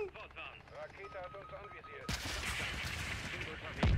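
Close air support in Call of Duty: Modern Warfare 2 comes in as a sudden loud barrage midway, with dense, rumbling gunfire and explosions after someone speaks German over quieter game sounds.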